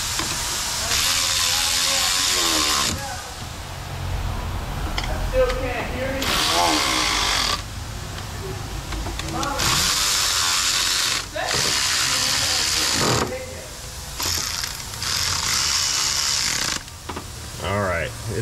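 Ratchet and power tool work tightening engine bolts during a 3.5L lower intake and cylinder head repair, bursts of mechanical buzzing and clicking alternating with brief pauses, with people talking in between.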